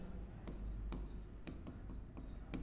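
Pen writing a number of zeros on paper, a few short close scratchy strokes in quick succession against a quiet low hum.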